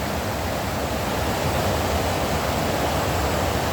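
A river flows steadily nearby on a countryside walk, a constant broad rushing wash with no breaks, loud and close with no voices over it.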